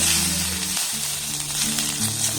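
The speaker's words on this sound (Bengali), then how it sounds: "একটা পেঁয়াজ আমি এইভাবে টুকরো টুকরো করে কেটে নিয়েছি দিয়ে দেবো দুটো লঙ্কা এবার কাঁচা লঙ্কা পেঁয়াজটাকে একটু হালকা নাড়াচাড়া করে লাল লাল করে ভেজে নেব" Chopped onion and green chilies fry in a pan with a constant close sizzle and a brief stir partway through, no talking.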